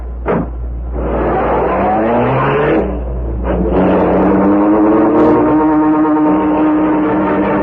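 Car engine for a radio drama sound effect, a loud motor revving and accelerating in rising and falling surges, with a gear-change-like break midway, no speech.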